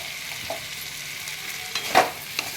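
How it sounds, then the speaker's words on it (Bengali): Turmeric, salt and Kashmiri red chili powder fry in hot oil in a pan, giving a soft continuous sizzle broken by scraping stirs and a louder rustling scrape near the end. No voices are heard. "এবারে আমি আর একটু ভালো করে কষিয়ে নেব।"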